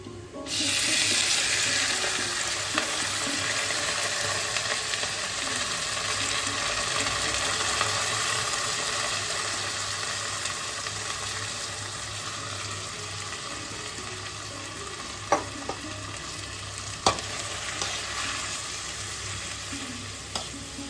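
Washed moong dal tipped into a pan of coconut already fried red for khichdi, giving a steady loud sizzle and frying hiss throughout with a few sharp clinks of stirring, close by and without speech.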